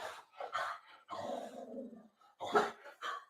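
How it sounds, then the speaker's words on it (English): Dogs barking and growling nearby indoors, several loud bursts in irregular rhythm with short gaps between them, heard alone without talk. "Sorry, that's the dogs."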